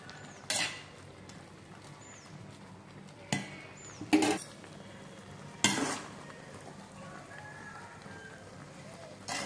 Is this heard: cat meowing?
no